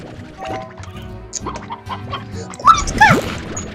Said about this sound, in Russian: Курочка! Курочка!